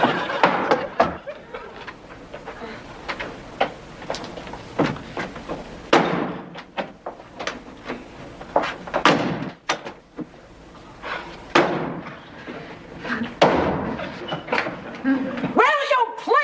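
Doors slam shut around a home several times, each a sharp thud among frequent knocks and bumps, heard beneath steady, lively conversation.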